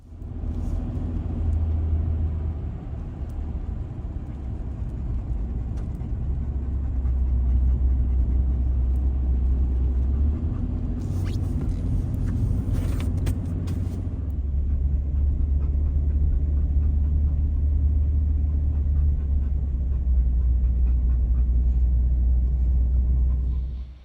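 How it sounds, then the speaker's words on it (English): Brand new four-wheel drive vehicle rolling through fresh first snow, a steady low engine and tyre rumble throughout with a brief higher crunchy hiss midway, no talk. "Brand new four-wheel drive."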